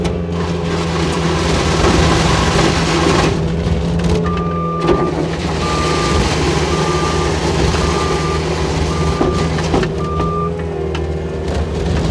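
A 2009 Caterpillar 289C rubber-track skid steer loader reverses with a loud, steady engine drone and a regular series of evenly spaced backup beeps. The beeps sit close over the constant machine rumble.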